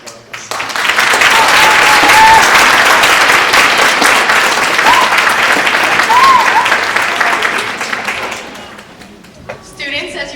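Loud, sustained applause from a student audience at a speech competition finals, filling most of the clip before tapering off, with a few voices and a brief burst of activity near the end.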